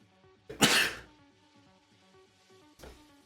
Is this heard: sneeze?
yes